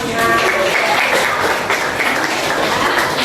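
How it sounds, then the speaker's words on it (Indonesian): A classroom of students claps together in a dense, steady burst of applause that holds at an even level throughout. "Tepuk tangan"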